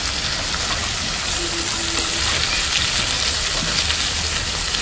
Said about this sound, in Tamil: காய்கறி எல்லாமே ஒன்றா நல்லா வதங்கிடும்.